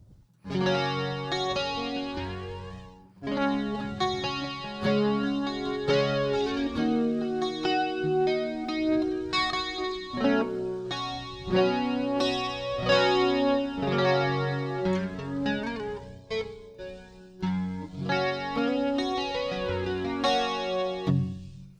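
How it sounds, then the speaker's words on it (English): Electric guitar played through an Ammoon Pockrock effects unit, chords and melodic lines with a shimmering chorus effect and reverb tail, continuous and fairly loud throughout with a brief pause near the start. "So we'll just put some reverb on, just a little bit of reverb. And then we'll put on some chorus."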